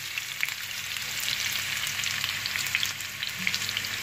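Spices sizzle and crackle in hot mustard oil for a Chittagong-style black beef bhuna, a steady dense frying hiss with small pops throughout, close and alone.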